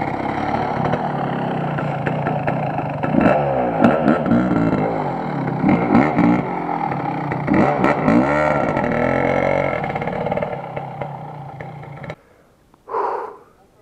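A motorcycle engine revs close by, its pitch climbing and falling in several loud bursts over a steady idle before cutting off near the end.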